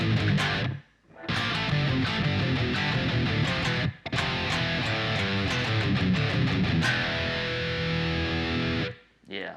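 Heavily distorted electric guitar plays the transition riff from a song, a dense chugging run of power chords that stays loud throughout, with two short breaks where the sound drops out.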